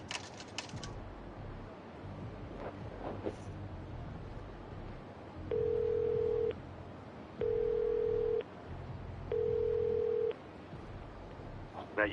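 In the video game Yakuza 0, a telephone is dialed: a few soft key presses and low background hum, then three evenly spaced steady ringback tones, each about a second long.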